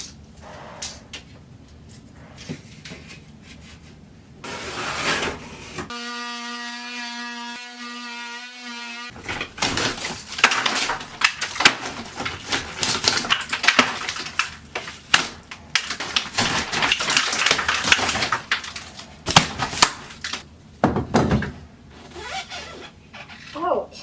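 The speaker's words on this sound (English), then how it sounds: "So I wanna cut this out along the stud" Harsh, uneven scraping and rasping bursts come from drywall being cut out along a stud during a bathroom demolition, with a steady tonal whir from a tool for a few seconds near the start.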